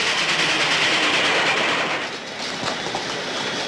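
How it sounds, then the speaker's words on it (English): A train rolling into a station, a continuous rumbling wash of wheel and carriage noise with faint clickety-clack, steady and fairly loud with no voices. "The train's late."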